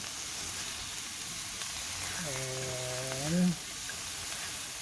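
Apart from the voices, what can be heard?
spices and vegetables frying and sizzling in a pan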